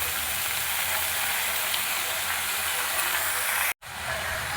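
Spinach and brinjal fry in a pan with green chillies and a little oil, giving a steady, close sizzle that runs unbroken and then cuts off abruptly for an instant before resuming.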